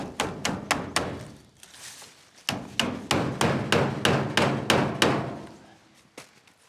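Hammering outdoors on a remote island in Scotland's rainforest comes as close, loud, rapid blows in two long runs separated by a short pause, each strike landing with a firm knock.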